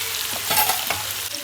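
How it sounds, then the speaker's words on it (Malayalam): Food frying in a pan in a home kitchen, a steady close sizzle with brief stirring scrapes over it, no talking. "അപ്പോൾ ഞാനിവിടെ ഒരു ഭാഗത്ത് ഫ്രൈ ചെയ്യാൻ വെച്ചിട്ടുണ്ട്"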